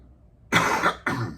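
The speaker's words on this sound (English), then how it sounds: "Got a bit of a cough, getting over the flu, actually." Two quick, close coughs from a man getting over the flu, the first longer and harsher, the second short, after a moment of near silence.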